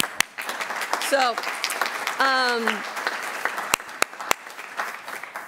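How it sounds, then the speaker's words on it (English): Audience applause at a Providence Preservation Society annual meeting, a sustained wash of clapping in a hall that runs under a speaker's voice and fades after a few seconds. "Can we give you a round of applause?"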